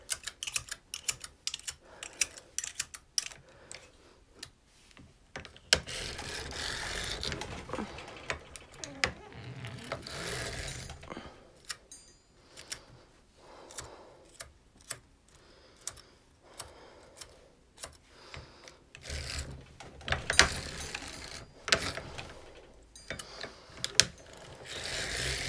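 Hand-cranked circular sock knitting machine clattering with rapid ticking needle clicks, running in bursts of busy mechanical chatter separated by brief pauses and isolated taps, close and fairly quiet.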